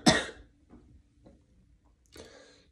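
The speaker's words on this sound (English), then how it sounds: "I keep coughing dirt." A person at Coachella coughs from dust, a harsh cough at the start followed by softer throat sounds and another rough burst near the end, all close to the microphone.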